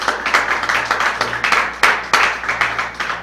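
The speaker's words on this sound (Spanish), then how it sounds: "Can you get a hand to Jesus?" A church congregation applauding, rhythmic clapping in a steady pulsing beat from a group in a hall, fairly close and continuous, with no talk over it.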